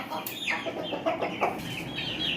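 A Lakha-coloured breeder rooster lets out a short, broken crow close by, a few rising and falling squawky notes over a faint farmyard background, with no talk.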